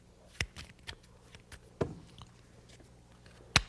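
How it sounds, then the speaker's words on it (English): Playing cards are shuffled by a magician at a table, a few sharp, scattered snaps and flicks spread over several seconds with quiet gaps between them. "I'm going to shuffle them."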